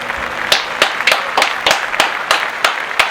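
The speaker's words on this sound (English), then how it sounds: "Let's clap it up." A crowd claps together in a steady rhythmic beat, about ten sharp, loud claps evenly spaced with no talking over them.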